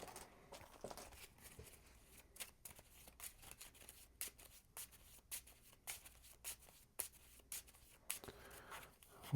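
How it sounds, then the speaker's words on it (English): Cards are drawn and slid from a deck in a Nemesis Retaliation board game, a quiet run of close, dry paper flicks and scrapes in uneven bursts, with no talking. "We draw action cards."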